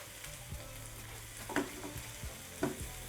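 Spice paste for chicken karahi frying in a pan, a steady low sizzle broken by a few sharp stirring scrapes and clinks, close and fairly quiet with no talking.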